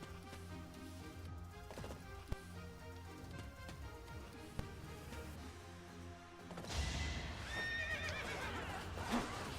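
A horse neighs amid clip-clopping hooves and sharp impact hits in the Fire Emblem: Three Houses video game, with a louder burst of whinnying and clashing toward the end.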